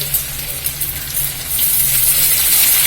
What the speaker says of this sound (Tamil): இந்த கருவேப்பிலையை போட்டுறப்ப இந்த எண்ணெய் என்னமோ பொங்குது